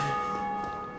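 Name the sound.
bell ringing in Dark Souls Remastered video game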